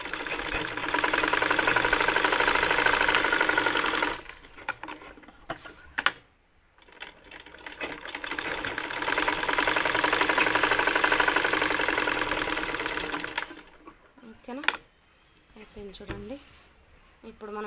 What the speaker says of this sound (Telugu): ఈ షోల్డర్కి మంచి ఇట్లా నీట్గా ఇట్లా పెట్టుకొని స్టిచ్ చేస్తుంది